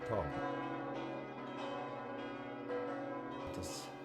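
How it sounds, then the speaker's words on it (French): Church bells ringing, a sustained resonant pealing with repeated overlapping strikes that hang in the air, fairly faint and heard from a distance. "Alors les cloches de la paix ont sonné."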